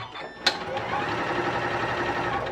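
Janome Continental M6 sewing machine stitching steadily after a sharp click, a continuous close mechanical whir that holds an even level through the clip with no talk.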